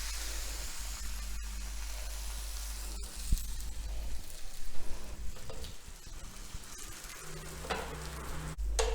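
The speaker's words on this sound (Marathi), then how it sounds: "पॅनवर थोडंसं तेल टाकायचं आहे आणि त्याच्यावर छान खरपूस भाजून घ्यायचं" Eggplant rotka flatbread roasting in a little oil on a hot pan makes a continuous close sizzle and frying hiss with occasional light scrapes, heard alone without speech.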